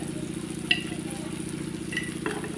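Ground spices including black masala and coriander powder frying over medium heat in a pan for dal fry, a steady soft sizzle with a few light stirring scrapes, close and even.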